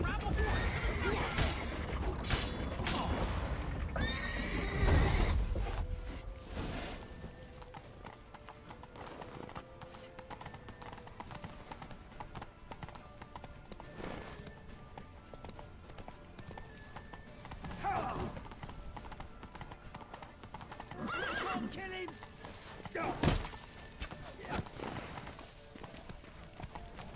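Hooves clip-clop at a gallop under a game's music and effects, with a horse neighing and whinnying several times and occasional thuds, as the horse from The Witcher 3 runs on; voices are present at moments.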